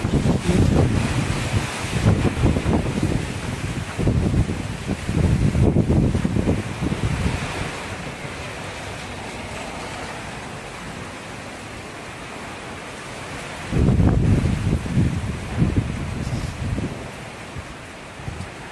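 Typhoon Tino's wind buffets the microphone on a city street in Iloilo, sounding as heavy rushing gusts in several loud surges separated by calmer stretches of steady roaring noise.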